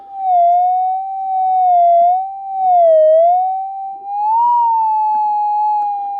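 Ground noise from moist soil on a Minelab GPZ 7000 metal detector: one loud, continuous warbling tone that slowly rises and dips in pitch throughout, with no sharp target signal and only faint handling rustle beneath.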